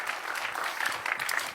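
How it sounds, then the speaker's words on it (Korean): An audience at a church gathering applauds Pastor John, with brief, moderately loud clapping that holds steady throughout. "Let's give a hand for Pastor John."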